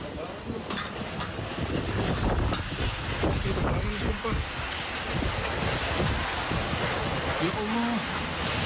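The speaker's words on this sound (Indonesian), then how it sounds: "Angin kencang menerbangkan sejumlah barang di atas rumah." Strong wind batters a housing complex in Dau, Malang, blowing items through the air above the houses, with heavy buffeting gusts and rumbling microphone wind noise throughout and faint voices mixed in.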